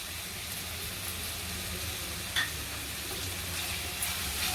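Thecha, a crushed chili and garlic paste, sautés in a pan for cluster beans sabji, giving a steady soft sizzle with a couple of brief utensil clicks and no speech.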